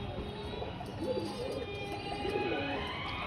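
Several pigeons coo softly in low, rolling phrases, with swells around the middle and near the end, over a steady outdoor background hum and faint chirps.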